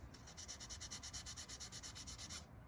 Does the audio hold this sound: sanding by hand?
yes